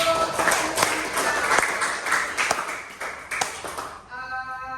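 A primary-school class claps in scattered, uneven bursts during an Islamic religious education lesson, with sharp hand claps and taps up close, a voice faintly mixed in, and a short ringing tone at the end.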